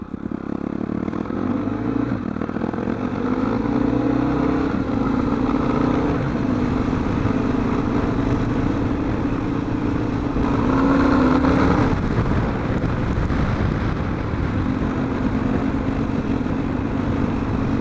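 A vehicle engine drones steadily and loudly while driving around, with a low continuous rumble, slight swells in revs and occasional rattling.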